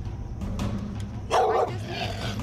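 Two pit bulls bark, excited behind a fence during a stray dog rescue, a few close sharp barks with one loud bark in the middle.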